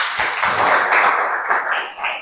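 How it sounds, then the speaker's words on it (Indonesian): Students in a classroom clap together in a short, dense round of applause lasting about two seconds, steady and fairly loud before tapering slightly. "Tepuk tangan buat kalian semua."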